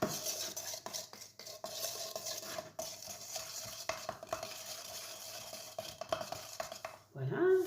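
Enamel mixed with dish soap is stirred in a container, giving a close, continuous scraping and clinking swirl with a soft frothy hiss. It runs steadily throughout and ends in a brief louder knock.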